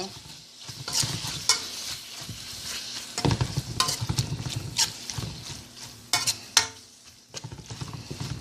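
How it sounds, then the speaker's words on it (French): Onion and garlic frying in oil in a pan, a steady sizzle broken by repeated scraping stir strokes and a few sharper clinks of a utensil, close by with no talk. "L'oignon là avec l'ail qui cuit dans l'huile, ça sent tellement bon."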